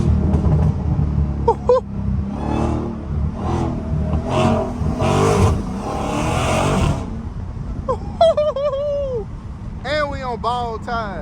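A Dodge Hellcat's engine revs and rumbles loudly from inside the car as it is driven through traffic, while people talk throughout, with some whooping and high-pitched sounds near the end.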